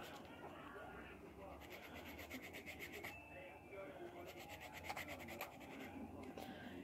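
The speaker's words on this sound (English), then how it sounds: "be sure to tip the file so that you're only filing that line right there, not the whole nail" A nail file rasps over a fake UV gel coffin nail in quick, faint back-and-forth strokes, a soft scratchy rhythm that pauses briefly and resumes, very close and quiet.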